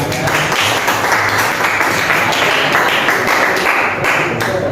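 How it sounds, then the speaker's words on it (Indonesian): A crowd applauds continuously, a dense, even wash of clapping hands that holds steady without letting up. "Tepuk tangan buat Mas Muhammad."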